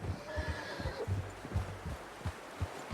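A horse in the video game Red Dead Redemption 2 neighs and snorts close by, with a few clip-clop hoof thuds around it, heard alone without talk.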